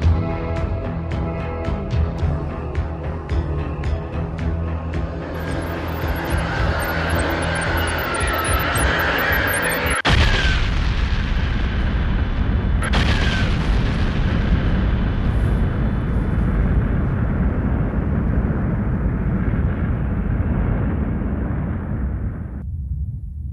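A star bursting apart as a supernova, rendered as a continuous, loud roaring explosion effect with a sharp surge near the middle and a second burst soon after, then a sustained rumble that cuts off near the end.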